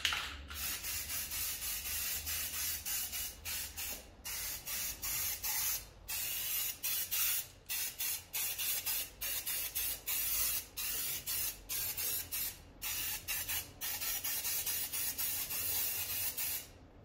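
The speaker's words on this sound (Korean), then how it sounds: "자, 용접 부위에 녹환원제를 적용시키겠습니다." Rust converter hisses from a spray can onto weld areas beneath a 2021 Hyundai Palisade, coming in loud, close bursts of a second or two separated by short silent gaps.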